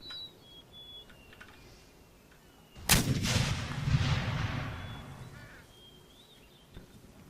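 Musket volley fire from massed line infantry in the Empire Total War battle game, a loud burst of overlapping shots that booms and rolls away over several seconds, with faint ambient battlefield noise before and after.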